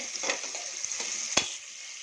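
Onions roasting in a pan for egg biryani, a bright steady sizzle with a few scraping stirs and one sharp knock of the utensil near the end, close and alone.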